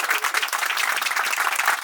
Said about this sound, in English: Let's welcome them as newlyweds with a round of applause